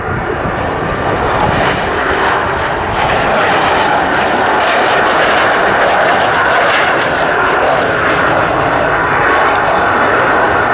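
A Gloster Meteor NF11 jet at the RAF Cosford airshow, a loud sustained engine roar and whine filling the whole clip, steady and close without a break.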